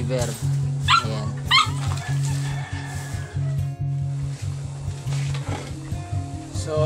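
A golden retriever barks in repeated short woofs, close and loud, over a steady low hum, with a person speaking between and over the barks.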